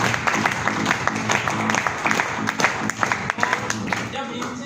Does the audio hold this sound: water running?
no